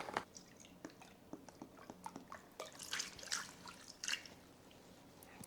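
Beef broth poured into a crockpot, with faint irregular splashing and dripping trickles, quiet and close, with no talking.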